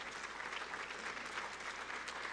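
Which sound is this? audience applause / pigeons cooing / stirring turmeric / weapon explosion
audience applause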